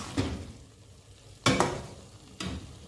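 A spoon scrapes and stirs nuts through thick bottle gourd halwa in a pan, three distinct scraping strokes over a soft background sizzle, with no talk.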